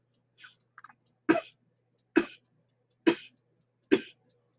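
Four forceful coughs follow kapalbhati breathing during a kundalini yoga session, evenly spaced about a second apart, close and loud. Quieter breathy sounds come before them.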